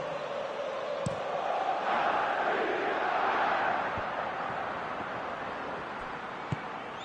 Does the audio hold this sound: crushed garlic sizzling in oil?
no